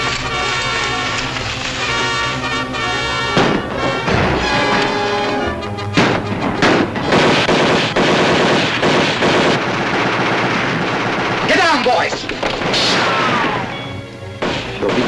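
Gunfire from a shootout in an old western film, with repeated loud shots and ricochet-like cracks over a sustained score of music and commotion, with occasional voices.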